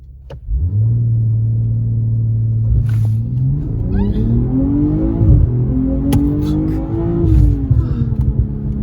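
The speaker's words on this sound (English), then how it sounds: "So this time I'm gonna hold it a little bit longer and see if I can watch that boost gauge creep up before I launch the car." 2022 BMW M240i held on launch control then launched hard, a loud close engine drone holding steady before rising in pitch through the gears with turbo boost, gear shifts audible as brief dips.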